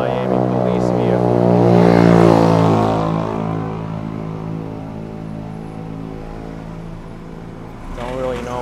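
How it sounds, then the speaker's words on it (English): A Miami police vehicle passes close by on a street during a scooter ride, its engine swelling loud then fading away, with a steady low drone underneath and a person talking over it. "another Miami police vehicle"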